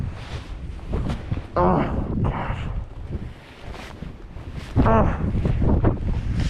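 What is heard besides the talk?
strong wind gusts on mountain ridge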